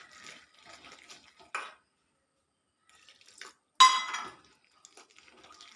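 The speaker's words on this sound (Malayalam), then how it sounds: "ഇനി വെള്ളം കുറേശ്ശെ ഒഴിച്ച് കലക്കാം" Water is poured into wheat flour and stirred into dosa batter in a bowl, giving intermittent wet splashing and mixing sounds with short pauses and one louder slosh, close by and without speech.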